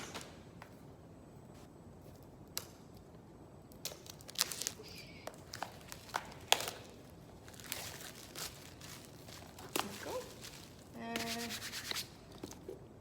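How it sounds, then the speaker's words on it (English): Plastic wrap being peeled and unwrapped from an art canvas at home, quiet scattered crinkling and rubbing with a few sharper crackles, close and soft. "I'm gonna go ahead and unwrap one of my canvases."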